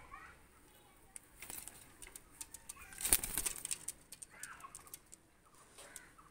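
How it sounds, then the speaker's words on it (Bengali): Two Aliput pigeons of Oman Teddy bloodline are released, giving brief, faint bursts of wing flapping, the strongest near the middle, over a quiet background with faint voices. "দুইটা কবুতর ছেড়ে দেখাচ্ছি দেখেন"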